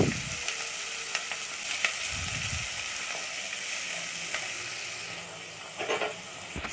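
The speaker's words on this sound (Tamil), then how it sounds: "நறுக்கி வச்ச சின்ன வெங்காயத்தை அப்படி உள்ளே போட்டுருங்க" Shallots frying in hot oil, a constant crackling sizzle with occasional clicks and scrapes of a utensil in the pan.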